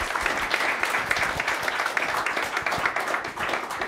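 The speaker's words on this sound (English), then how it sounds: "Please give her a round of applause." Warm audience applause at an academic lecture honoring a neuroscience professor, dense, even clapping from a seated crowd lasting a few seconds at close range.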